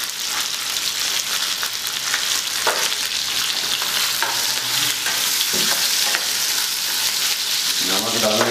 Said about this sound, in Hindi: प्याज को मिक्स करेंगे, इसके अंदर डालेंगे ये नमक